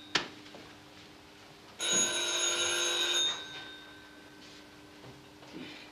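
A telephone bell rings once in a single sustained burst of about a second and a half in a quiet room, clear and fairly close, with faint background sounds before and after.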